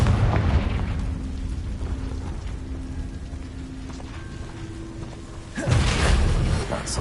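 A Confringo fire spell from Hogwarts Legacy bursts with a loud, broad blast near the end, after a stretch of low droning mechanical rumble and faint creaks.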